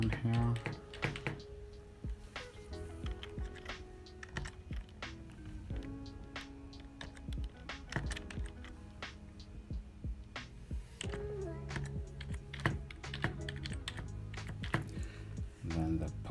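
Email address typed on a computer keyboard at a sign-in form, a run of quick, light, irregular key clicks close by with a faint background hum throughout.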